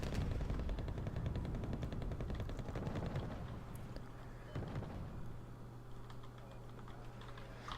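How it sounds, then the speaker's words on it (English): Faint machine gun fire in a war strategy video game, heard as a continuous stretch of rapid, rattling bursts at a steady low level that eases off slightly toward the end. "gets a hit on it, and a burst, gets 1 burst on the gun on it"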